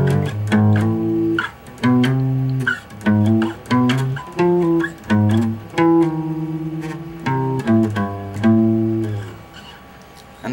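A slow, plucked acoustic guitar plays a theme melody in single notes and short phrases, with slides between notes, played clearly and alone.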